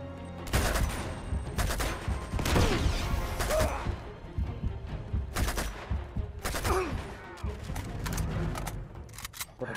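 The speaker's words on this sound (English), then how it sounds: "What a shotgun." Shotgun blasts in the video game Uncharted 2, several loud, sharp reports at irregular intervals with crashing impacts and rattling debris, over a dense in-game battle din.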